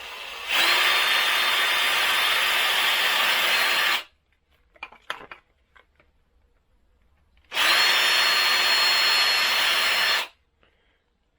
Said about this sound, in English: And those two holes are now drilled.